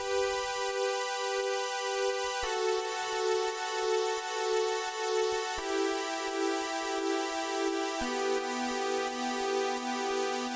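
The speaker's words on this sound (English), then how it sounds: "there's like a lead thing that happens in the chorus, which is a sampled Moog" A bright, buzzy sampled Moog synth lead plays sustained notes that shift pitch a few times, steady and loud with no talking.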